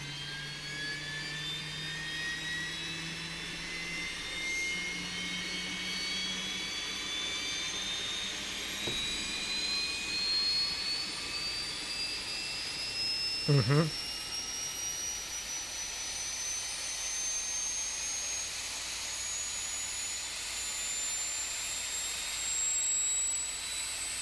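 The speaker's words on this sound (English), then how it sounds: "That is an APU startup sound right there" Auxiliary power unit of an MD80 airliner spooling up in a flight simulator game, a rising turbine whine that climbs steadily in pitch over about twenty-four seconds, with a brief clunk midway and a low mechanical hum beneath.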